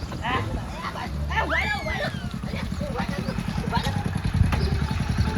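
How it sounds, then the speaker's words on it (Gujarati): A motorcycle comes closer, its engine chugging in a steady low putter that grows gradually louder beneath people talking nearby. "એ બાઈક આવે"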